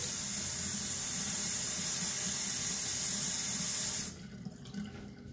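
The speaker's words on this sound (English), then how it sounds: "Rinse off some of the alum." Tap water runs steadily into a sink to rinse alum off the face after a shave, a close, even splashing rush that stops abruptly near the end, leaving a few faint drips.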